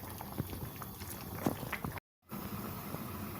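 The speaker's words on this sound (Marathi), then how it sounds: "आता मी ह्याला झाकण ठेवून थोडं परत एक पाच मिनिट शिजत ठेवणार आहे" Tomato soup with beetroot and carrot simmers under a lid, giving a steady, soft bubbling and liquid burble close by, with a brief dropout partway through.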